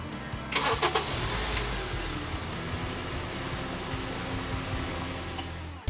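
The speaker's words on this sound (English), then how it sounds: "give the car a couple of seconds, and it's gonna start right up" A car engine cranks briefly and catches, then settles into a steady idle that hums on for several seconds; nearby and fairly loud.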